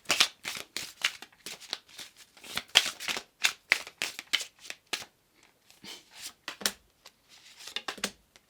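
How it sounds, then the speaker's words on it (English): Tarot cards shuffled and handled during a pick-a-card reading: rapid, papery flicks and riffles close by in irregular bursts, thinning out toward the end, with no voice. "A couple of tarot cards."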